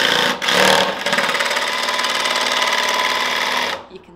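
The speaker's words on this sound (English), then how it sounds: "Jen's going to now cut this bit with John's Milwaukee jigsaw" A Milwaukee jigsaw cutting laminate flooring, a loud rapid buzzing rattle that starts with a short burst, runs steadily for about three seconds, then stops abruptly.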